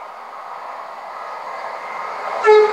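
A Class 170 Turbostar diesel unit rumbles steadily through Needham Market station, then sounds a short, loud two-tone horn near the end.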